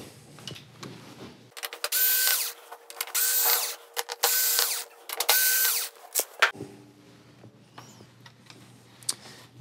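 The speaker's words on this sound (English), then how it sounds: "And now we've just got a handful of screws." A power screwdriver whirs in several short bursts, with small clicks and handling noises between them, as screws come out of the main board of a Sony KDL-46EX710 TV, heard close with no talk.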